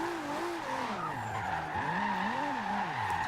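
A tuned Toyota Supra of over 1,400 horsepower in Forza Horizon 2 drifts with sustained tire squeal, its engine note wavering up and down through the turns, loud and continuous.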